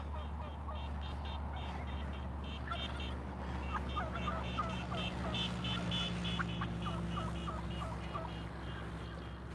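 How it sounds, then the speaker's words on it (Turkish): Turkeys gobble in repeated rattling bursts over a steady low hum, several birds calling at moderate distance in a flock. "Geldik hindilerin yanına."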